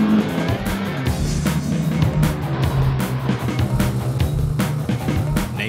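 Pagani Huayra supercar with a 700-horsepower twin-turbo V12 engine, a loud steady engine roar with a throbbing low drone and shifting revs throughout, close and continuous.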